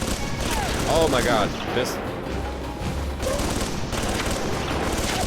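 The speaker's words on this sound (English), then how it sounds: "A lot of recoil. A lot of recoil on this thing." Repeated gunfire from a heavy-recoil weapon in the video game Alpha Protocol, a dense, continuous burst of shots lasting several seconds at steady loudness, with someone speaking over it.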